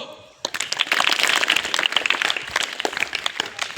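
Students doing a scout clap in a classroom: after a brief quiet start, a burst of group clapping rises sharply and continues as uneven, fairly loud applause with scattered voices.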